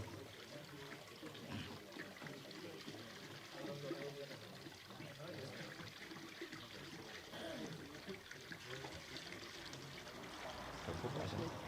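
Water pours steadily into a container holding soil amendment ingredients for correcting high soil pH, a continuous close trickling and splashing without pause.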